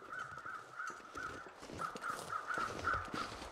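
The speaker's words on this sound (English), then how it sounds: "Crows in this game are carrion crows, and they will circle corpses" Carrion crows cawing in the survival game The Long Dark, a series of harsh repeated caws in an uneven rhythm, faint and somewhat distant over a quiet windy background.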